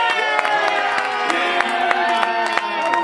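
A crowd cheers and claps to vote for contestant number four, with whoops and children's shouts over sustained music-like tones and scattered claps, loud and continuous throughout.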